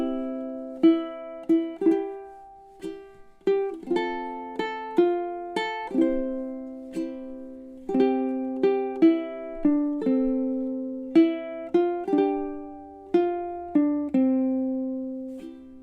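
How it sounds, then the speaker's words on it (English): Solo ukulele arrangement of O Holy Night, single plucked notes and soft chords sounding clearly and alone at a slow, even pace, each note ringing and fading. "a solo ukulele arrangement of Oh Holy Night"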